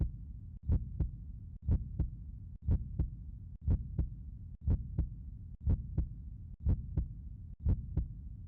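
Heartbeat sound effect in the Racing Lagoon video game: a steady, close, deep double-thump pulse repeating about once per second, loud and clean with a low hum between beats and no talk.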